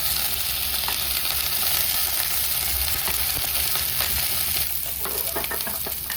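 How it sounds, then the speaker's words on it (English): Meat sizzles in a hot pan with a continuous, loud, crackling fry that stays steady throughout. "The pan is not hot enough if it is not sizzling when you put the meat on"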